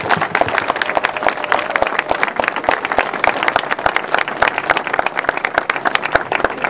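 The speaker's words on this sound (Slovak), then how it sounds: "Zatleskajme si." A large crowd at an outdoor anti-immigration protest rally in Bratislava claps loudly and continuously in a dense, sustained wave of applause.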